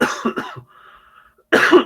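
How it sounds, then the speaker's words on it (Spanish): A person with irritated bronchi coughs in a quiet room: three sharp coughs in quick succession, a brief pause, then another harsh, loud cough close to the listener. "esta época me afecta mucho mis bronquios y tengo que estar tosiendo ya"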